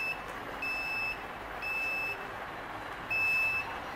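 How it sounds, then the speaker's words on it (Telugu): A handheld currency detector for visually impaired people gives three clear, evenly spaced electronic beeps, each about half a second long, over a quiet background. "ఇది ప్రెస్ చేసినాకో వన్ సౌండ్ వస్తుంది వన్ బీప్ సౌండ్"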